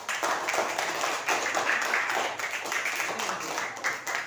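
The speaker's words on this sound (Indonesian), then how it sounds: "kasih tepuk tangan untuk kelompok 4" Schoolchildren in a fifth-grade classroom at an Indonesian elementary school applaud a presenting group, producing a continuous, moderately loud burst of clapping with some voices mixed in across four seconds.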